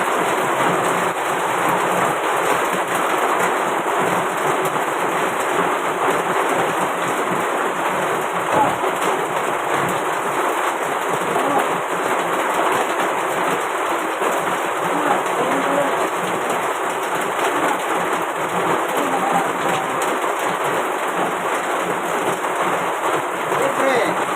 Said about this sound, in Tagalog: Umuulan to, umuulan.